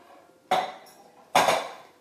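Glass jars clink and clatter against each other twice while dishes are handled in a home kitchen during pasta sauce preparation, two loud, bright, ringing hits about a second apart and close up.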